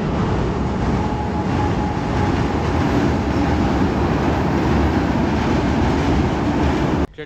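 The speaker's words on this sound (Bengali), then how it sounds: "পেছন দিয়ে হঠাৎ করে ট্রেন চলে এসেছে" A train rumbling across a railway bridge over the Torsha river, loud and close with continuous heavy roar and clatter of wheels that ends abruptly.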